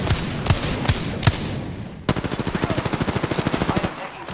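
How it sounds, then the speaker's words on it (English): Gunfire in a first-person shooter video game: four or five loud, spaced single shots, then a sharp onset of rapid automatic fire with evenly pulsing bursts, close and dominant. "I am taking fire, friends."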